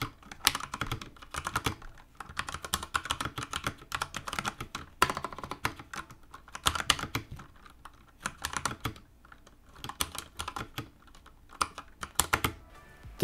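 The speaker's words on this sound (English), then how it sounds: "a sound test of this keyboard" Rapid typing on a Durgod K320 mechanical keyboard, with crisp key clacks in bursts and brief pauses, close and fairly loud with no voices.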